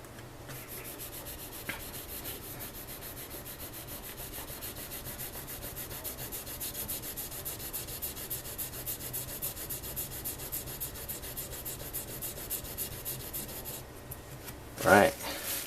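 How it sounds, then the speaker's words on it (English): A leather knife being sharpened on a stone, its bevel side rubbing in a steady back-and-forth scrape that continues throughout, faint and close, with a brief sharp knock near the end. "only this bevel side should be touching the stone."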